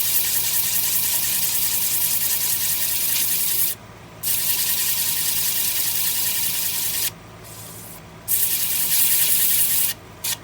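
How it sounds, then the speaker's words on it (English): A wooden bowl's edge being hand sanded with 320-grit sandpaper: a steady, close, dry rubbing hiss that runs continuously, broken by a few brief pauses before the strokes resume. "I need to hand sand that. Just a little bit of 320 just to clean up that edge."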